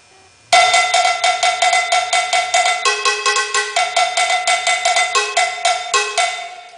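An LP cowbell struck in a steady, fast rhythm, loud and close, with bright metallic clanks and a few changes in pitch.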